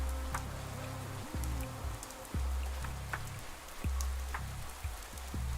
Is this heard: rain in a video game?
yes